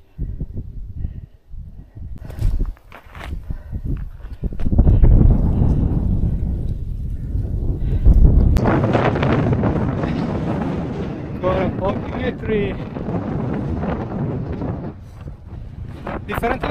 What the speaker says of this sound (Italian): C'è vento, spero che si senta quello che dico.